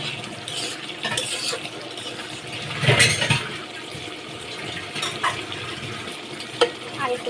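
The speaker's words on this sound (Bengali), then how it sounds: "মাংস কষানো হয়ে গিয়েছে রান্না হয়ে গিয়েছে" Chicken pieces being stirred and cooked down in a pan for chicken kosha, with a steady low sizzle, scraping stirs and a louder burst of spoon activity near the middle, no voices.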